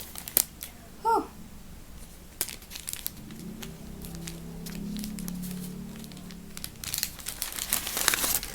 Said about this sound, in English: need to open the inner package and expose the gloves